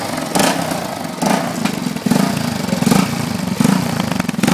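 Motorcycle engine idling with a harsh, very metallic clatter, close and loud, pulsing in a steady uneven rhythm that swells roughly every second, no speech over it.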